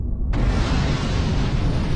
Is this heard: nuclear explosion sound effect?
yes